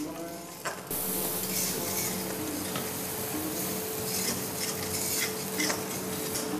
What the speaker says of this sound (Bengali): এক টেবিল চামচ আদা বাটা এর মধ্যে দিয়ে আবার নেড়ে কষতে হবে।